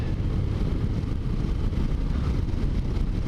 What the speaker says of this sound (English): Stock exhaust sounds so good,